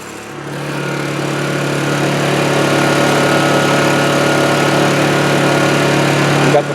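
A Honda EU2000i inverter generator, housed in a baffle box with a new exhaust vent, drones at full throttle: a loud, steady hum with a strong low tone that swells slightly at the start, then holds even.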